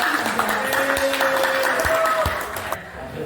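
A classroom of students claps together briefly, a short round of applause with a teacher's voice over it.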